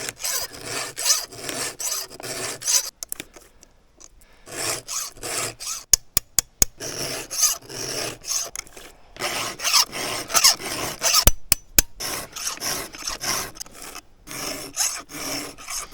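Rhythmic rasping strokes of a file sharpening a tightened chainsaw chain, repeated back-and-forth scrapes in bursts separated by short pauses, close and clear with no talking.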